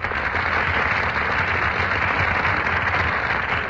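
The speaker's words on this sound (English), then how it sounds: "That burst of applause, ladies and gentlemen, is for Brian Ahern and Joan Fontaine, who are just entering our Gulf Theater stage" Studio audience at a radio theater broadcast applauding as Brian Aherne and Joan Fontaine walk onstage; a steady, dense burst of clapping fills the whole stretch with no talk over it.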